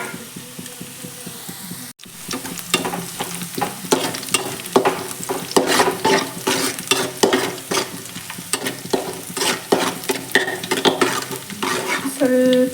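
Chili flakes fry in hot oil over a medium flame, a steady close sizzle broken by repeated scraping stir strokes, alone without talk, with a brief drop near the start.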